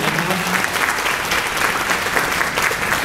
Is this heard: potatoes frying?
no